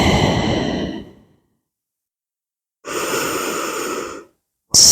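Deep, slow breaths during a yoga hip stretch, heard up close: a long exhale fading out, a silent gap, then a full steady inhale-like breath and the start of another.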